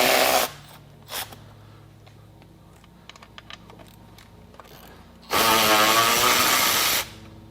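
Power drill or impact driver backing 13 mm bolts out of a car seat while fitting leather seat covers, two loud bursts of whirring: a short one at the start and a longer, steadier run near the end, with quiet clicks between.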